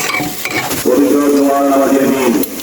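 Onions stirred and browning in a pan of oil give a close, loud sizzle with scraping strokes, rising into a sustained hiss midway through, with no voices.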